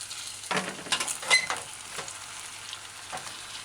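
Broccoli florets stir-fried in a saucepan used like a wok, soft sizzling with a few scraping stirs and light utensil clinks, fairly quiet and close.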